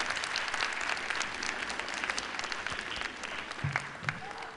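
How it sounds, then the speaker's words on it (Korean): Sustained applause from a festival crowd after the opening performance of a multicultural sound festival in Tongyeong, a steady rush of clapping that eases slightly near the end, with a brief low thump and faint voice. "큰 박수 부탁드리도록 하겠습니다."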